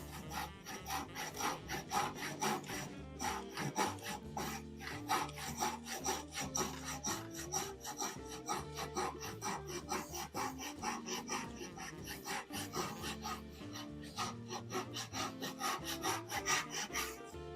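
A hand saw cuts through a piece of wood in a home workshop with steady, rhythmic back-and-forth rasping strokes. The close, even sawing continues throughout, with no voices.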